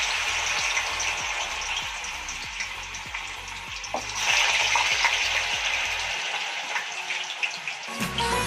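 Potato fries drop into hot oil in a home kitchen and fry, giving a steady close sizzle with small bubbling bursts and a few light stirring knocks, with no talk.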